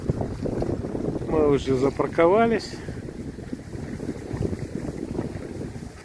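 Wind blows outdoors beside a parked vehicle, a steady rushing buffet against the microphone throughout, with a brief spoken phrase partway through.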